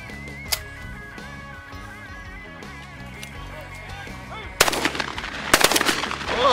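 Shotgun blasts on a quail hunt outdoors, a single sharp report early on, then a dense burst of loud near shots and echoing cracks toward the end, over a steady engine-like drone.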